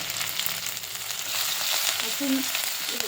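Chopped garlic and green chili frying in hot oil with a little cumin, giving a steady, close, hissing sizzle that runs unbroken throughout.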